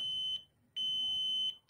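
A homemade wireless power alarm gives two loud, steady electronic beeps, each lasting about half a second, separated by a brief gap, with no talking over them.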